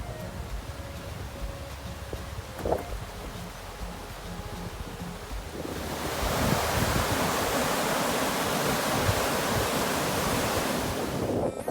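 A steady, broad roar of rushing water at Punnayar Waterfalls in Idukki, Kerala, that swells louder partway through and continues unbroken, with no voices.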